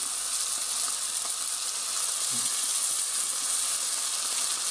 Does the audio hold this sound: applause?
no